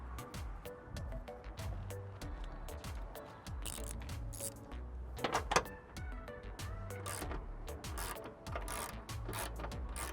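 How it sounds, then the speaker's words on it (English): A 13mm socket ratchet clicks and rattles in quick repeated bursts while backing out airbox bolts on a 2008-2014 Ford F150, close up with metallic tool handling and no talking. "taking the 13mm socket and removing the two bolts here to pull this out"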